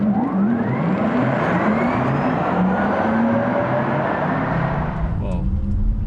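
A Porsche Taycan electric car accelerating on the Sepang race circuit gives a steady rising whine with rumbling road and tire noise, heard from inside the cabin. People talk over it.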